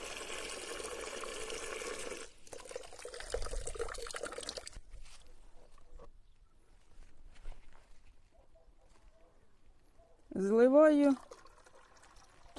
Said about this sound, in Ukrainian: Коли наступного разу наливаю води